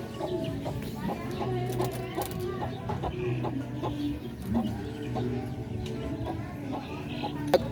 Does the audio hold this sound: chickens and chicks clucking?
yes